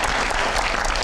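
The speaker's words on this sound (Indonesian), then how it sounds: "Kita berikan tepuk tangan yang luar biasa." Audience applause at a business journalism panel event, a brief burst of dense, full clapping heard alone.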